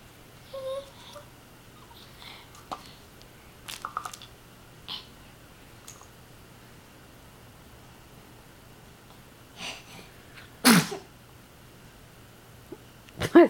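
One sharp, loud sneeze bursts out near the end in a quiet indoor room. Small scattered clicks and soft sounds come before it.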